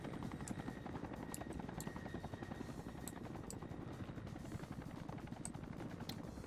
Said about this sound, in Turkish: Evet orada bir helikopter var.